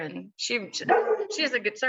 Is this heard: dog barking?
yes